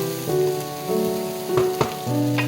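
Sautéing in a pan before chicken fillet goes in, a steady close sizzle and hiss with a few brief stirring clicks and scrapes over a constant background hum.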